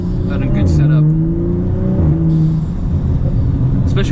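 A BMW F30 335i fitted with a BMS Elite performance intake revs hard, the engine climbing and falling with sharp blow-off hisses between pulls, loud and close while someone talks over it.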